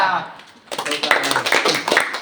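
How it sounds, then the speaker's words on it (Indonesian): Audience hands clapping together in a vocational high school classroom, a dense burst of applause starting partway in after a quieter stretch, steady and close. "tepuk tangan ya sekali lagi"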